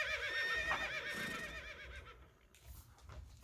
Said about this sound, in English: As they emerged into a clearing filled with wild horses, Phillipe whinnied, and several of the horses answered him.